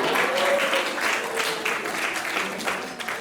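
A comedy club crowd applauds during a stand-up set, a lively, fairly close burst of clapping with some scattered voices rising and falling throughout.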